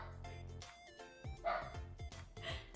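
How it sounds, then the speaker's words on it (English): Dogs barking indoors in a home, several sharp, loud barks and yips in an irregular burst, with a tonal background hum running under them. "dogs are barking."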